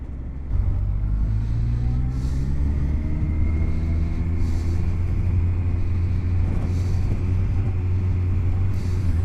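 Motorcycle engine hum while riding, a loud steady low rumble that starts after half a second and holds evenly throughout, with faint wind noise over it.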